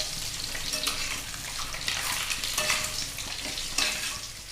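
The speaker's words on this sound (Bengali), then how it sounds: "আমাদের ডিমটা পুরো ভাজা হয়ে গেছে।" Eggs frying in hot oil in a pan for a dhaba-style egg curry, a steady close sizzle with a few louder crackling bursts and spatters throughout.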